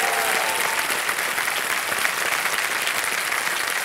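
Studio audience applause on the set of the Indian TV quiz show Kaun Banega Crorepati Season 14, a dense, steady roar of many clapping hands held at even loudness throughout, with no voices over it.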